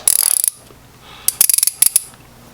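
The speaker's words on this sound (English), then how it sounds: "now that we covered the ratcheting part of it" A 3/8 swivel ratchet clicking in two quick bursts of sharp, evenly spaced metallic clicks, close and loud, separated by a brief quiet pause with no talking.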